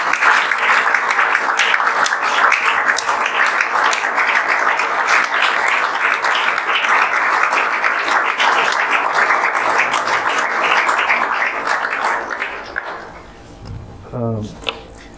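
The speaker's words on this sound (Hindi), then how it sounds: "आप लोग जोरदार ताली" Loud, sustained applause from an audience honoring teachers at a JEE Main 2024 results celebration for Awasar Classes students, dense clapping for about thirteen seconds before it fades into a few scattered claps and faint talk.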